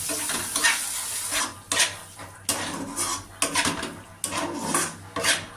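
A spatula stirs and scrapes spice paste with turmeric and salt frying in a pan for butter jhal curry, giving repeated bursts of sizzling and scraping with short pauses between strokes. No one talks.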